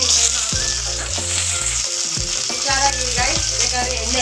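Green chillies fry in hot oil in a pan, a loud steady sizzle with a spatula knocking against the pan at regular intervals.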